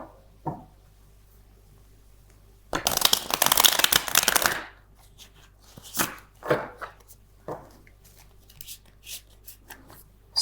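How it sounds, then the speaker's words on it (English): Tarot cards being reshuffled by hand: a dense riffling burst of about two seconds, preceded by a light tap and followed by scattered softer card snaps and handling sounds, close and fairly quiet. "let me just reshuffle my cards."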